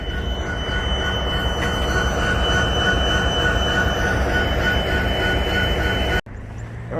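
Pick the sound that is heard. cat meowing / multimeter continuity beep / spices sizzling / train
train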